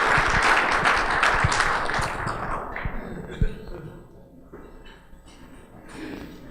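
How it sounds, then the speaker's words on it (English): Round of applause for sponsors at a chamber of commerce membership luncheon, loud clapping for about three seconds that fades out, followed by quieter room sounds and faint voices. "So give our sponsors a round of applause and come on up here and share with us."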